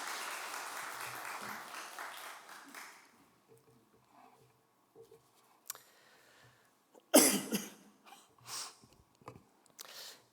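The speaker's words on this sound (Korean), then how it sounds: "큰 박수 보내드리겠습니다" Congregation in a church breaking into applause, a burst of clapping and scattered coughs that fades to quiet, then another short round of claps near the end.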